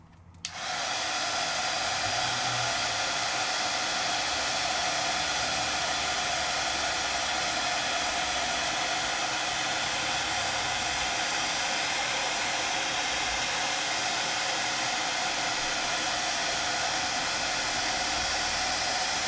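A heat tool switches on abruptly and blows a loud, constant whooshing roar for the full duration while melting embossing powder on paper at a craft table.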